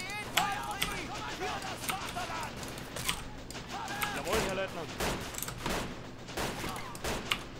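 Musket gunfire in the Battle of Empires video game, a ragged series of sharp shots cracking in irregular volleys, some close and some distant, with a voice talking over the battle.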